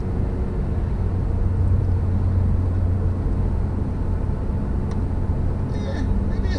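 Honda Civic Type R driving in Sport mode, heard from inside the cabin as a steady, loud engine and road drone that holds constant throughout with no voices.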